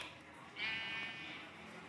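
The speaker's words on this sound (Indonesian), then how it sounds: "Duh, ada domba keliaran." Sheep bleating in Minecraft near a farm pen, a single drawn-out synthetic bleat rising clearly over a faint room hum.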